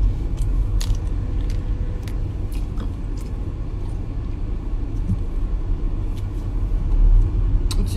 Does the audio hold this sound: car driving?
yes